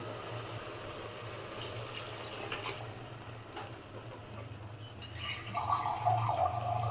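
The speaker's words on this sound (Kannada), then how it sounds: "ಮೂರು ಗ್ಲಾಸ್ ಮೂರಿಂದ ಮೂರುವರೆ ಗ್ಲಾಸ್ ನೀರು ಹಾಕೋತಾ ಇದ್ದೀನಿ" Water pours into unsoaked rice in a pot while mushroom biryani is being made: a faint, continuous trickle that swells louder near the end, with no talking.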